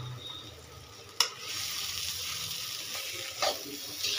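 Poha being stirred and fried in a pan, a soft, moderate sizzle following a sharp clank, with occasional scraping stirs and a brief louder rustle.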